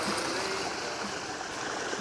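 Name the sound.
water running in to fill a koi pond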